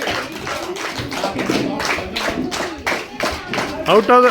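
A group of students at an ashram clap loudly together in a fast, dense stream of sharp hand claps, with voices calling out over the clapping near the end.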